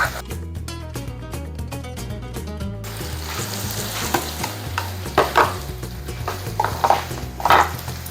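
Garlic sautés in a pan for chicken asado, a steady loud sizzle with repeated stirring scrapes, following a short burst of music at the start.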